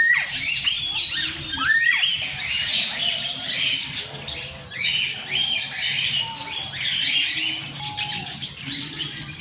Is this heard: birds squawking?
yes